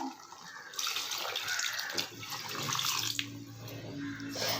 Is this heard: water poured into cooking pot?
yes